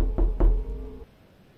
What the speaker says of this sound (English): I just heard a knock